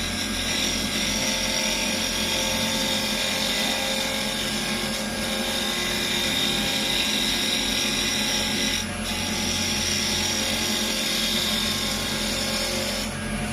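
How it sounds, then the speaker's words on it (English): A steady wood-turning lathe hums and whirs as a chisel slowly pares the spinning wood for a pen blank, with a continuous scraping hiss and a brief dip partway through. "just paring the wood away very slowly."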